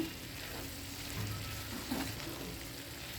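Prawns with grated coconut fry in a pan, giving a steady close sizzle with a few soft scraping stirs mixed in, no voices over it.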